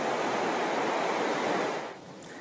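Sea waves wash onto Otres Beach in Sihanoukville, Cambodia, a close, steady broadband rush of surf that eases slightly near the end, with no voices.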